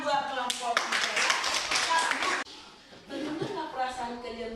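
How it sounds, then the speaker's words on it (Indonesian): Schoolchildren in a classroom clapping for a group, a burst of close, uneven hand claps that cuts off abruptly, followed by quieter scattered claps, with children's voices and a teacher's speech around it. "Tepuk tangan buat kelompok 3 ya."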